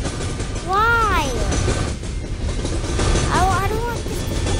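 A train rolls past in a Roblox train-crossing game, a loud, steady broadband rumble filling the whole stretch, with two brief swooping, voice-like tones rising and falling over it near the start and again toward the end.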